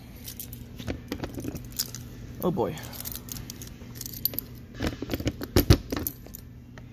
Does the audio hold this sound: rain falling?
no